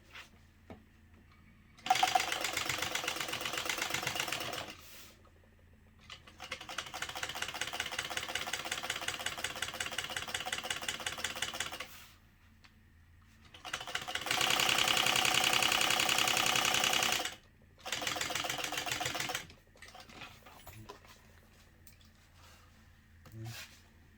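A domestic sewing machine stitches a jeans back pocket in four separate bursts of rapid, steady mechanical whirring and clatter, each a few seconds long, with near-silent pauses between them and no talk.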